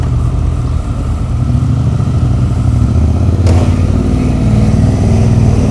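Loud motorcycle engine with a raucous exhaust, a steady, close, throaty drone running without pause under the scene.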